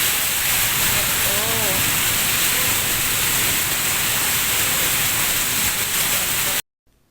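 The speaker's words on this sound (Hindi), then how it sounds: "तूफानी बारिश हो रही है भाई।" Heavy stormy rain pours at night in a steady, loud broadband wash that fills the whole clip before cutting off abruptly near the end; a brief voice-like sound rises faintly over it.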